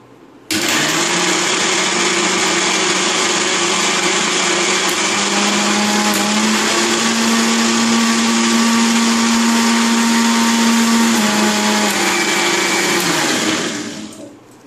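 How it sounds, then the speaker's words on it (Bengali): A mixer grinder whirs steadily as it blends kharkol leaves and garlic into a paste, a loud, continuous motor drone with a slight change in pitch partway through, starting abruptly and winding down at the end. "এবার এটাকে মিক্সিতে পেস্ট করে নেব"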